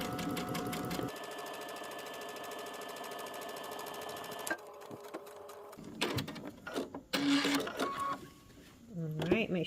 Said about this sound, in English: Now we're going to go ahead and do the understitching, stitching the seam to the lining, close to the seam